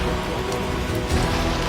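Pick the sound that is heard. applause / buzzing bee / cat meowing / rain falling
rain falling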